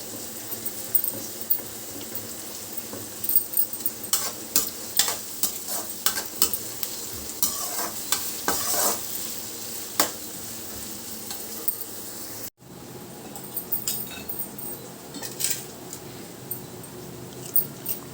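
Onion pieces fry in oil until golden, with a clattering spoon stirring repeatedly against the pan over a continuous sizzle; a brief cut breaks it before quieter sizzling and stirring carry on.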